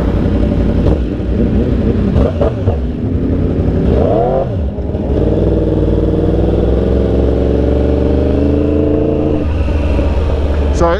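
A Yamaha R1 motorcycle on a night ride in Miami drones loudly and steadily with rising and falling revs, its engine note dominating throughout, with a brief voice heard over it.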